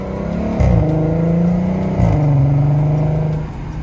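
A modified Volkswagen car accelerates hard at partial throttle, its engine note climbing loudly and steadily with two quick shift breaks, close and alone.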